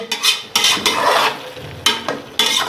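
Cabbage stir-fried in ghee with garam masala and three whole chilies, spatula scraping and stirring in bursts against a low steady sizzle.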